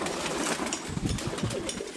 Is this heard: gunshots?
no